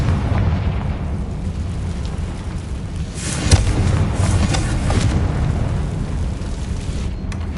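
Confringo spell blasts in the Hogwarts Legacy video game rumble as low, heavy booms, with one sharp burst near the middle over a continuous roaring background.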